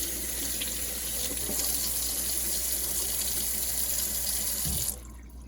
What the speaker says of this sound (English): A little cold water going. Just give it a rinse.